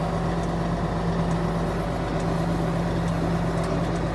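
A Case 2870 tractor engine drones steadily as it pulls away, a loud continuous low rumble with no break.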